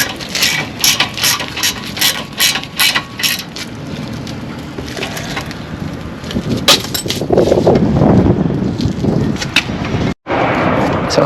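A ratchet wrench tightens the sway bar link bolts during a strut replacement on an Acura TSX wagon. A rapid, regular run of close clicks gives way to louder, denser grinding ratchet strokes, with some talk nearby.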